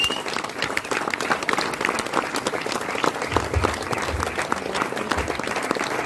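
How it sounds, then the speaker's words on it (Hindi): A hall audience at a business success event gives loud, continuous applause. Dense clapping fills the whole stretch, with no distinct whistles standing out. "जोरदार तालियां बजाएं सीटियों के साथ"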